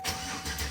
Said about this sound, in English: So now we're gonna go ahead and start the car.